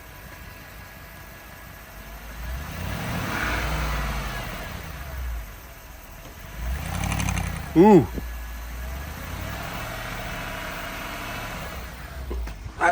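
Land Rover engine idling, then revved a couple of times with a rough, uneven note suggesting a misfire on cylinders 1 and 7, heard close up with a brief exclamation from a man over it.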